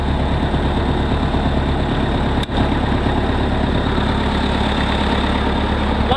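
An old tractor engine idles steadily just after cranking up, a loud, continuous low rumble with a brief dip midway and no talking.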